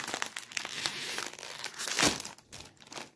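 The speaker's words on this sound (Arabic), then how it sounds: "هنفتح كيس كيس ونحط بقى الفارغ ايه" A Lulu Karate snack bag being torn open and handled, crackly plastic crinkling in irregular bursts up close, peaking in a louder rip midway.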